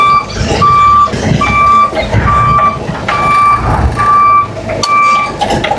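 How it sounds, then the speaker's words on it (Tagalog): A 1000 kg Lalamove truck backs into a street corner, its reversing alarm sounding a steady series of regular beeps over loud engine rumble and traffic noise. "Kaya patras tayong pawasok sa kanto."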